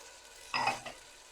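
A spoon scrapes and stirs through pulao ingredients frying in a pot, one short scraping pass over a soft sizzle, close and quiet.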